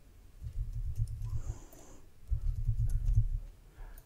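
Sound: typing a password on a laptop keyboard

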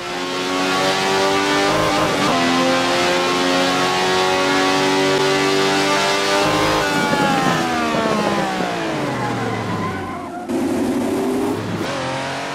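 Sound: car braking hard in a racing video game

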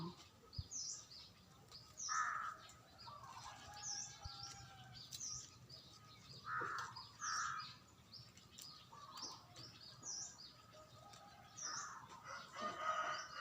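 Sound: chickens in the coop

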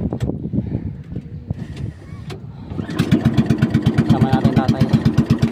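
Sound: boat engine running during a boat ride

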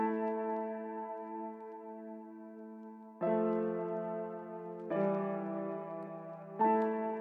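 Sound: piano melody with EQ applied

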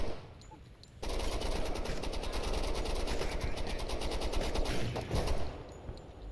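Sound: gunfire in the video game Door Kickers 2

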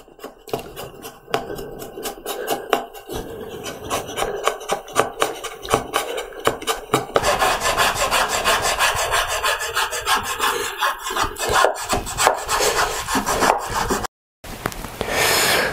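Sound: filing wood of a low angle jointer plane mouth

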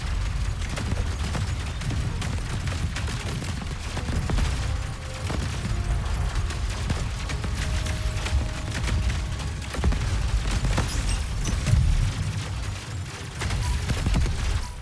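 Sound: firing missiles in video game Cygni: All Guns Blazing

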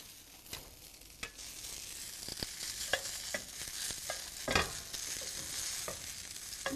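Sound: onion added to mushrooms frying in a pan

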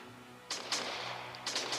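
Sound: sniper rifle gunshot in video game Sniper Warrior

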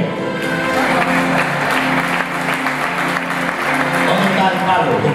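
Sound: congregation applauding in church

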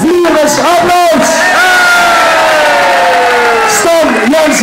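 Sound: audience applause and cheering

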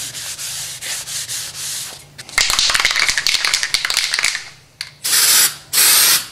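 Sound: wiping metal surface with PPG Acrylic-Clean wax and grease remover

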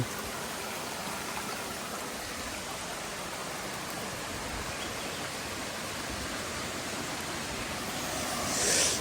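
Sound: flowing stream water

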